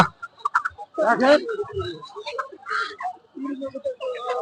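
Chickens cluck and squawk at a busy village poultry market selling broiler and native chickens and ducks, while people talk loudly nearby.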